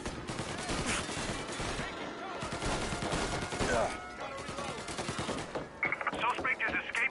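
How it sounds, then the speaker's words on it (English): Video game gunfire and explosions in Mafia Definitive Edition at a hotel shootout: dense bursts of rapid shots and heavy booms crackle nearly continuously, loud and close, with voices talking over parts of the fight. "Gunfire and an explosion reported at the Corleone Hotel."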